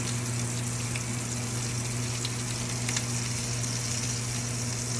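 Bacon fries in a pan with a dense, constant sizzling hiss and occasional spitting crackles, steady and close, accompanied by a low steady hum from nearby equipment.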